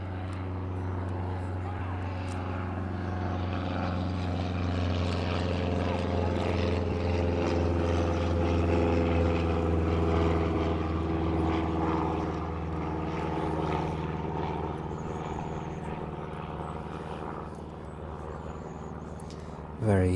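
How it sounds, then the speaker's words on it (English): A Cessna 152 propeller plane takes off at East Midlands airport, its steady engine drone holding loud and continuous for about twenty seconds before easing slightly, heard from the airfield perimeter. "The Cessna 152 then, just taking off there."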